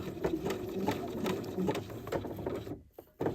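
A sewing machine stitching a seam in reverse runs with a steady close mechanical whirr and rhythmic needle clatter, then stops briefly near the end before restarting.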